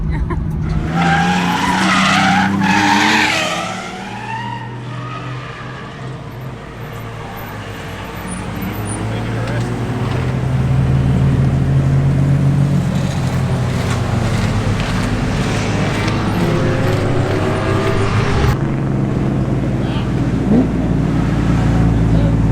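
A 1JZ-engined Nissan S15 drifts at a Friday night practice session, with loud, sustained tire skidding and squealing over a roaring, revving engine. The sound stays close and continuous throughout.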